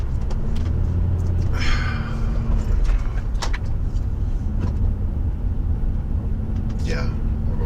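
A car crawls along slowly behind traffic, its low engine and road rumble steady throughout beneath people talking inside the cabin.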